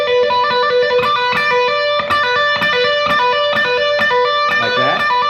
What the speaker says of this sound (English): do a pull off, and then a hammer on like this